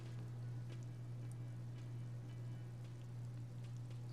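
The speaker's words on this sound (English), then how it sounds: "All around you, rain falls on the great city of Revachol." Steady rain falls over the city of Revachol in the video game Disco Elysium, a constant soft patter with a low droning hum beneath it, even and unbroken throughout.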